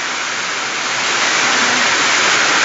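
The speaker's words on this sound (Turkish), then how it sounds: "Bardaktan boşalırcasına değil, sürahiden boşalırmışçasına yağıyor." Heavy rain pouring down in a village during a flood in Tokat, a dense, steady roar of water that holds constant and close with no voices.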